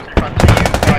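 Gunfire in the military shooter Squad: a short, close burst of rapid automatic shots, about seven cracks in quick rhythm.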